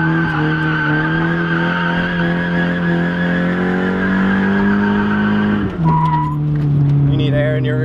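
Nissan 240 drifting with a loud, sustained tire squeal and steady engine drone, the screech shifting pitch briefly near the end as the car changes direction, heard up close.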